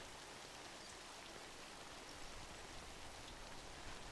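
Steady rain in the video game Death Stranding, a constant even hiss of falling water with no breaks, heard alone at a moderate level.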